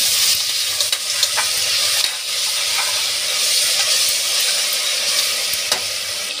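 Mutton with ginger garlic paste fries in a pan, giving a continuous loud sizzle with occasional scraping of stirring and no voices.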